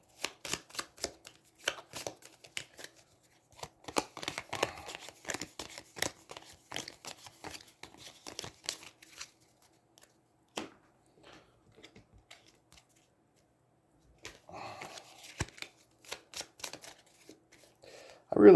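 A deck of cards being shuffled quickly during a tabletop game of Aeons End, heard as a run of crisp riffling and snapping bursts that pause midway, then resume, close and fairly quiet.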